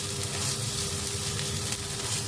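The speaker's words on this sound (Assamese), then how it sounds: "মই এতিয়া একদম কুৰকুৰীয়া হোৱালৈকে মাছটো ভাজি দিছোঁ" Small fish fry in oil until crispy, making a continuous dense sizzle at moderate loudness with no pauses or talking.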